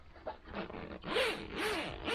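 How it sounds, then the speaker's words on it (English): A zipper is pulled open on the stove jack cover of a canvas wall tent, making a close, crisp rasp in several quick strokes with brief gaps between them. "unzip"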